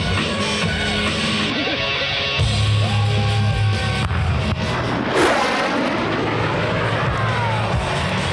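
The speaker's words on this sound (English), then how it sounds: "And snap the F-16 through a series of aileron rolls, demonstrating its exceptional roll maneuverability." An F-16 Viper fighter jet flies at an air show, its engine roaring loud and steady with a deep rumble and a swelling rush of passing thrust.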